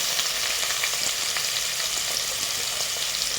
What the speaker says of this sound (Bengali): ওই তেলেতেই এবার আমাদের কুচিয়ে রাখা পেঁয়াজগুলো দিয়ে দেবো ভাজার জন্য